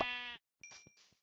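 A Minecraft sheep lets out a short, close bleat when hit, followed by a pause and then quick, crisp game clicks and hit sounds.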